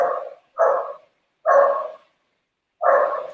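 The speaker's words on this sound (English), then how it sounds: "That sounds like a killer dog." A neighbor's dog barks four times in separated, loud, fairly close woofs, each bark lasting about half a second with pauses between, and no talking over it.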